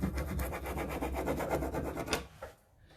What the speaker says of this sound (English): You just rub it into the texture itself.